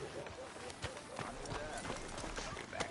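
Horse hooves clip-clopping in a PS4 western video game, a soft irregular run of hoof beats under a constant bed of ambient noise, with voices speaking faintly alongside.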